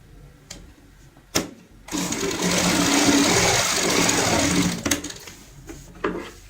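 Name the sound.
sewing machine stitching fabric strip onto cushion cover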